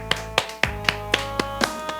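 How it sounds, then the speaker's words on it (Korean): A congregation at a Wednesday church worship service gives a round of clapping, heard as sparse, separate claps, about seven sharp hits over two seconds, spread unevenly and close, over a steady low hum. "우리 하나님 감사의 박수 올리겠습니다"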